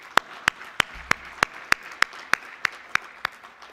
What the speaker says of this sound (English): let's give them all a round of applause before I continue.